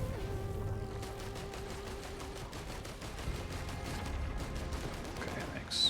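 Rapid gunfire in the video game Risk of Rain 2, a fast stream of repeated shots at steady rhythm under a low game hum, moderately quiet and continuous throughout.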